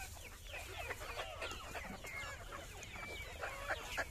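Sonali hens on a poultry farm in Uttar Pradesh cluck and chatter softly in a steady, overlapping flock murmur, several birds near and farther off, with no talk.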